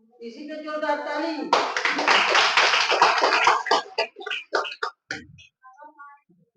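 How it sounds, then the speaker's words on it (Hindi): Loud applause from a crowd at a community organization's gathering for needy members, starting suddenly after a brief voice and settling into dense clapping for several seconds before tapering into scattered claps. "इसी का जोरदार ताली।"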